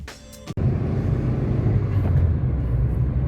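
A 2019 Hyundai Atos 1.1 Motion city car accelerating, its small engine a steady low hum and road rumble heard from inside the cabin, starting after a brief click and continuing evenly.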